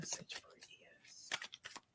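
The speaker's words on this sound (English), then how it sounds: "my cards need to be shuffled better." Tarot cards are shuffled in quick, faint riffling flutters during a brief, quiet moment, with soft speech around them.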